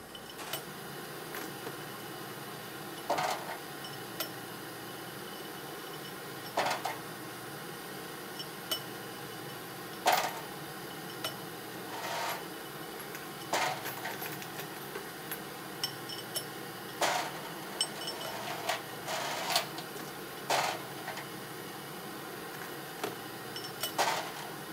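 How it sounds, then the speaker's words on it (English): A Ken Light annealer wheel processing rifle brass cases, a steady low mechanical hum with frequent light metallic clinks and ticks as cases drop and shift, moderately quiet and close. "I use a Ken Light annealer for all my annealing purposes."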